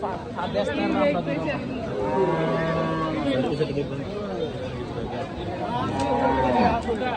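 Cattle low in drawn-out moos at a cattle market, amid a busy crowd with people chattering and talking nearby throughout.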